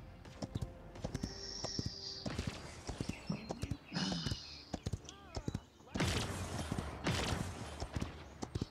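Horse hooves clip-clop rapidly in a multiplayer video game, with a rhythmic clatter of hoofbeats mixed with other game effects and bursts of busy in-game noise.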